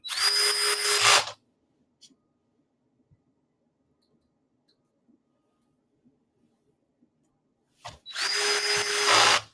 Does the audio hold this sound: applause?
no